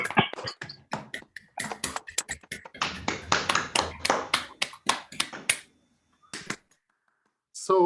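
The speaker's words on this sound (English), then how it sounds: "So we can unmute our microphone and give a round of applause to Ashley." Scattered applause after an online academic talk, a handful of separate participants clapping through unmuted microphones, with sharp, uneven, sparse claps that thin out into silence before a final brief burst.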